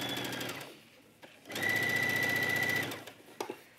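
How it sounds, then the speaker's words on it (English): A sewing machine stitches ribbing around a curved garment edge, running in two bursts of rapid even whirring, a short one and then a longer loud stretch, with quiet pauses between. "I just gently stretch the ribbing, just gently, as I stitch this around the curve"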